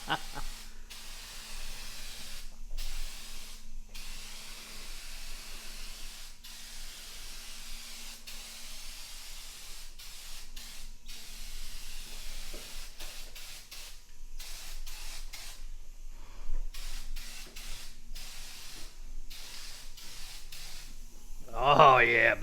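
Turbo can aerosol spraying onto a Mustang body set on a BMW frame, heard as a series of short hissing bursts separated by pauses, with someone talking at times between them.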